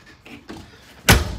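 An RV screen door on a Rockwood 2608BS travel trailer swings shut with a single loud, close thud near the end, after a few soft handling rustles.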